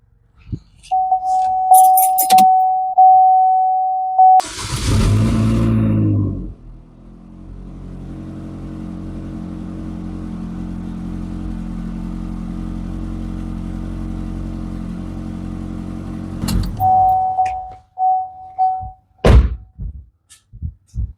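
A GM 2.4L Ecotec engine cranks and catches after new spark plugs and ignition coils, then settles into a steady low idle for several seconds before a few clunks and short tones at the end.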